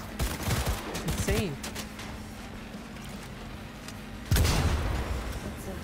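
Smart weapon gunfire in the Cyberpunk 2077 video game, with a dense stream of rapid shots and a heavier burst near the end, mixed with game noise while someone talks.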